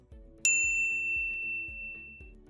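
A notification bell sound effect, a single bright ding that rings out and decays over a low rhythmic musical backing, with no speech.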